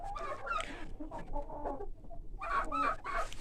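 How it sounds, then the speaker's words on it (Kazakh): Chickens and young roosters cluck in bursts inside a henhouse, close and fairly loud, with a short lull midway before the clucking picks up again. "Міне мынау жас қораздар ғой"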